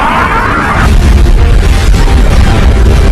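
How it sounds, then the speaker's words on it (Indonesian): A huge explosion in an animated story rumbles loud and sustained for about three seconds, a dense roaring blast with a rising whoosh at the start. "membuat tubuh sang bijak menjadi retak dan timbul ledakan yang sangat besar"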